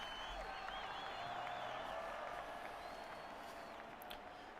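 A stadium crowd in the football video game AFL 26 cheers and applauds as a continuous, even wash of sound, with whistles and tonal game sounds layered over it.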